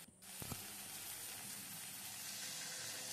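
Masala for a Bengali shahi egg curry sizzling in a pan as a little water goes in, a faint steady hiss after a couple of short knocks at the start.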